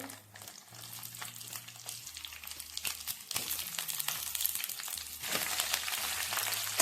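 Green brinjal fries in a pan for a curry, a soft, steady sizzle with occasional stirring scrapes, close and fairly quiet, accompanied by a low background hum.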